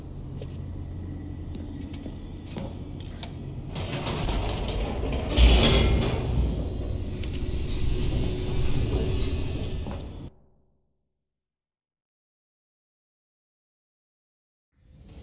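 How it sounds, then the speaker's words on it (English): An elevator descends in The Stanley Parable, a rising mechanical rumble with creaks and clanks that swells to a loud jolt midway, then cuts off abruptly into silence. "The elevator raced downward, plummeting towards an unknown fate."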